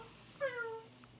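A child imitates a cat, giving one short, high, falling meow that is clear but quiet against a faint room background.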